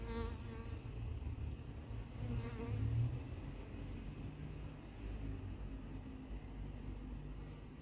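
A swarm of honeybees buzzes densely and continuously in the open air at Yerres, a rich droning hum of many wings near and far, rising and falling slightly with a faint background rumble.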